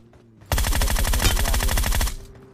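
An M4 rifle fires one sustained rapid automatic burst of about a second and a half in a battle royale video game, loud and close, then cuts off abruptly.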